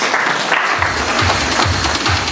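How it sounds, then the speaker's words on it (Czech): Steady clapping from a crowd at a school opening ceremony, dense and continuous, with a few louder low thumps pulsing through it at a regular beat. "Prosím, potlesk."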